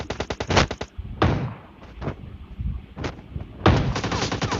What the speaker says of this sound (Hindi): अब मेरे को AKM का शॉट पड़ता है